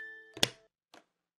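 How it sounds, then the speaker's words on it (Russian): A small jewelry box snaps shut with a soft, close thunk followed by a faint click a half second later, then silence. "Прикольная такая шкатулка. Закрывается."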